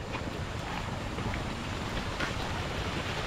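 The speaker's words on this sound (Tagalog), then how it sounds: "Ang lakas ng agos ng tubig." Strong river current rushing steadily at a campsite river in Norzagaray, a dense continuous broadband wash of water with some wind buffeting, no talk.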